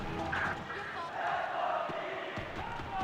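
The crowd at Riot Games' Convergence 2023 esports tournament keeps up a loud, continuous roar and cheer throughout, with faint voices mixed into the din.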